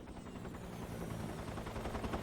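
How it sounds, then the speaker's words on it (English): Helicopters in the video game Metal Gear Solid 3 drone outside, a continuous thick rotor rumble with fast chopping pulses, steady and loud throughout the short stretch. "all I can hear is 10 billion helicopters outside"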